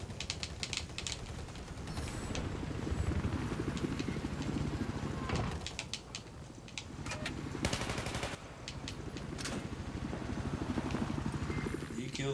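Helicopter in the video game Battlefield 4, a steady loud rotor-and-engine drone running throughout, with repeated bursts of gunfire and sharp impacts cutting across it.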